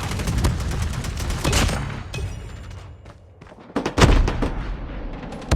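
Gunfire in Call of Duty during a hardpoint match: dense, loud bursts of rapid automatic fire and thumping shots, easing off briefly in the middle and then returning hard.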